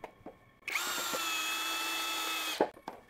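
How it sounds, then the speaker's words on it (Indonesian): A Miyota D8216C cordless impact drill drives a screw with one steady whine of about two seconds, with its clear motor tone held throughout, then stops with a clunk; it is close-up and has no speech. "Kita akan coba lagi penyekrupan Miyota Impact Drill."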